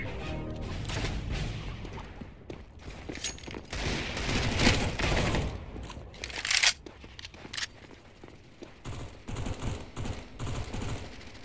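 Counter-Strike: Global Offensive aim training, with a string of gunshots cracking out at uneven intervals over a steady background, some shots loud and clustered, others sharper and more isolated, and no voices.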